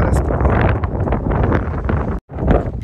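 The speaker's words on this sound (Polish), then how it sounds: "Jest straszny wiatr" Strong wind buffeting the microphone beside a salt lake in Cyprus, a steady loud roar with gusty swells that cuts out briefly near the end.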